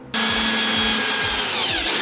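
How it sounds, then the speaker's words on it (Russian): A power drill whirs up sharply and bores a 9 mm hole through the plastic top cover of an electrical socket, a loud continuous whine with rhythmic low thumps as the bit bites, no talk. "В верхней крышке рассверливаю отверстие до 9 мм."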